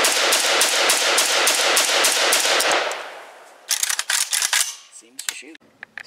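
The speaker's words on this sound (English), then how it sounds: "so let's see if it'll shoot." An ATI Galeo rifle being test fired fires a rapid, even string of loud, sharp shots for about three seconds, followed by scattered metallic clicks and clatter.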